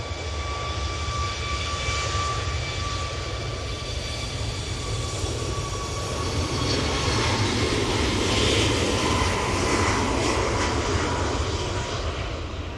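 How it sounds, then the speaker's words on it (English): A Ryanair Boeing 737 MAX departs Manchester Airport for Dublin, its jet engines producing a steady, loud, unbroken roar with a faint high whine that swells a little toward the end. "Ryanair 737 MAX going back to Dublin"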